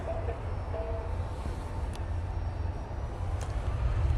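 A Ryanair airliner takes off at Manchester Airport, a continuous heavy low engine roar with broadband rumble, steady and fairly loud from a distance, no talk.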